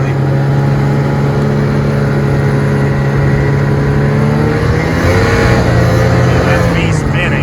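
A snow groomer with front cutters climbs a small hill, its engine droning loud and steady with a low hum that rises as the tracks spin, close throughout.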